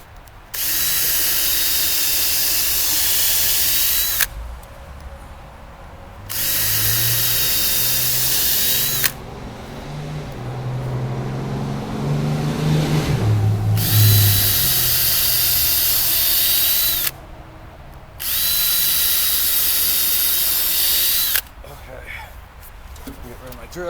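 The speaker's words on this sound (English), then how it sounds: "So I'm going to go drill that really quick." A power drill whines loudly in two long bursts, with a quieter gap between them filled by muffled rumbling and handling noise.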